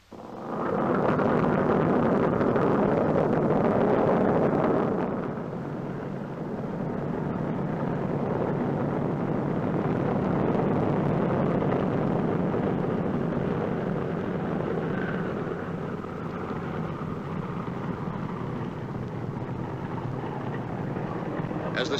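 A WWII warbird's piston engines roar loudly and steadily at close range after starting, a dense, unbroken drone that dips slightly after a few seconds, then keeps running for a long stretch.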